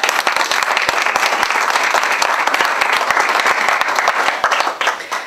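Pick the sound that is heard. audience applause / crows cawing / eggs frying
audience applause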